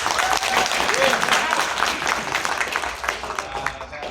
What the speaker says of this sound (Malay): Satu tepuk tangan untuk Abang Razak